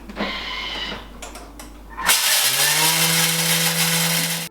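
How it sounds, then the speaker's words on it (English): A Thermomix grinding coffee beans: a loud grinding motor starts abruptly after a quieter stretch and runs steadily at a high, harsh pitch, with a droning low tone underneath. "if you are grinding your own coffee and you are going to make cold brew coffee"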